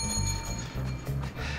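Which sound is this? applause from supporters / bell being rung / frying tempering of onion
bell being rung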